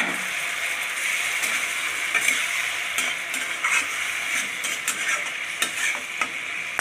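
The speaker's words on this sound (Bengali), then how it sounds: "এখন আমি একটু অল্প একটু জল দেবো।" A splash of water hits frying spice masala with ginger in a pan for a tinda curry, giving a steady, loud, close sizzle with faint crackles and occasional stirring scrapes.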